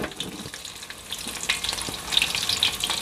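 Anchovies fry in hot oil in a pan, a close, steady crackling sizzle with frequent sharp pops and occasional stirring scrapes, with no talk.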